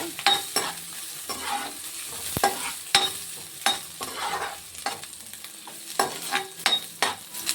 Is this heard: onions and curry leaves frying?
yes